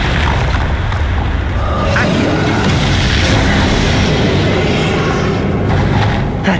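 Confringo explosive spell blasts in Hogwarts Legacy during a final fight, a loud continuous roaring boom and crackle that stays dense and steady throughout.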